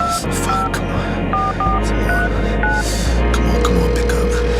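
A phone is dialed with a quick series of touch-tone beeps over a low electrical hum, and the pitch of the hum shifts partway through, as though the line is connecting.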